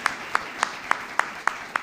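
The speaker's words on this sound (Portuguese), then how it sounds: "Vamos aplaudir ao Senhor. Aplauda a Deus." Church congregation clapping in praise: sharp, evenly spaced claps beat in a steady rhythm, about four per second, over a soft room background with no talk.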